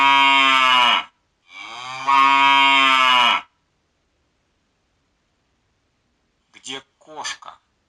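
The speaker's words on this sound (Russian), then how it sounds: "Корова." A cow gives two long, loud, close moos, the second drawn out, then after a pause a few short voiced sounds briefly follow.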